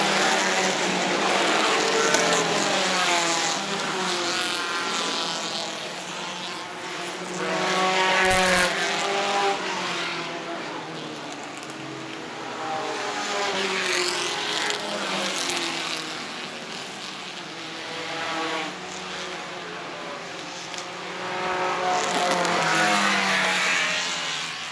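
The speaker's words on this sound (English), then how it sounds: "that Datsun 510 that takes the lead going into the first turn" Vintage race cars, led by a Datsun 510, roar off the start of the 2015 Pittsburgh Vintage Grand Prix into the first turn. Loud, layered engine noise swells and fades with occasional tire squeal, and no voices are heard.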